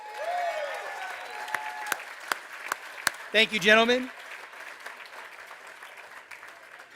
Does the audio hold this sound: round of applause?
yes